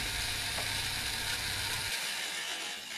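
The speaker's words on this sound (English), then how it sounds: "just a gentle stir will degas it nicely" Gentle stirring of home-brewed Cabernet Sauvignon wine to degas it, a continuous fizzing, whirring churn with a low rumble that drops away partway through.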